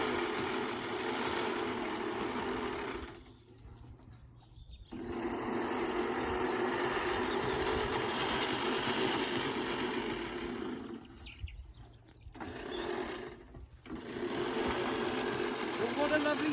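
A Ransomes Ajax mower runs with a steady, faint whirring clatter, interrupted by a few short pauses, heard from nearby outdoors without talk.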